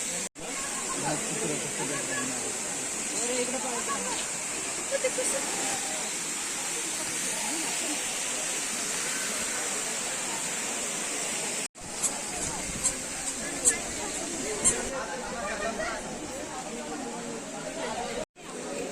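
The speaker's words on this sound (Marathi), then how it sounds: "इथला धबधबा आपण पाहू शकता" A constant roaring rush of falling water fills the scene, broad and hissy, with faint voices and a few brief clicks beneath it.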